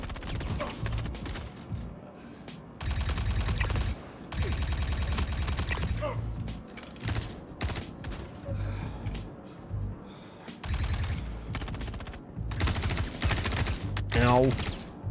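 Rapid bursts of automatic gunfire in the space game Star Citizen, loud and sustained with brief gaps between volleys, plus occasional mechanical whooshes and thuds.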